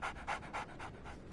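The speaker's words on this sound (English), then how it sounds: "So, Barnes has a dog now." Dog panting in a Sherlock video game, quick, close, rhythmic breaths repeating about five times.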